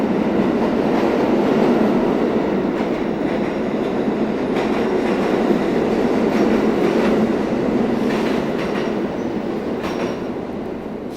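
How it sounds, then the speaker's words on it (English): A New York City subway train rolls beneath a Manhattan street near Union Square, a steady heavy rumble with faint rhythmic clatter that holds for over ten seconds and fades slightly at the end, with no talking. "Yes, there's a train right under us, Carly."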